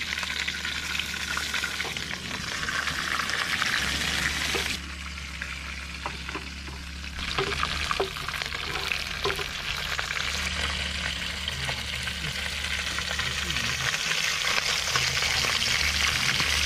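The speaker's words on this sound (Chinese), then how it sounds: "鲍鱼下锅， 水炸一下" Wild abalone frying in a hot wok, a loud steady sizzle and hiss with scattered spatula scrapes, a few shifts in intensity as the food is moved, close by with no talk.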